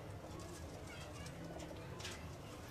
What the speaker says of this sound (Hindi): ये कबूतर बेसिकली सलारा है ना जी